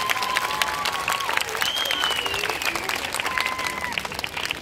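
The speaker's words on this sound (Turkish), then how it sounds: "Güçlü bir alkış istiyoruz." A crowd in a shopping mall applauds the cast of a Turkish comedy film, with dense, steady clapping and some cheering, while voices and whistle-like tones rise above the noise.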